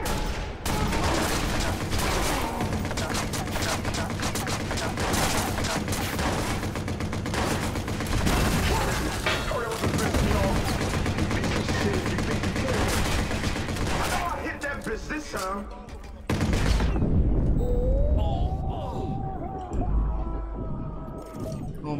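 Gunfire and combat noise in the video game Watch Dogs, dense and continuous with rapid shots layered over music and effects, easing into a quieter stretch near the end.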